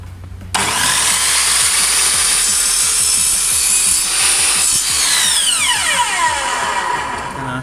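A power saw cuts square through the end of a wooden dowel for a DIY camera stabilizer, starting abruptly with a loud, steady buzzing whine, then pitching down as the blade spins to a stop.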